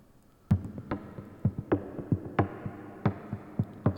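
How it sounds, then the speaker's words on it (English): Low pulsing synth hits repeat in an irregular rhythm, each with a short washy tail from a fully wet reverb, heard alone without talk. "Then I'm going to put it right into the reverb, just to get a unique ambience."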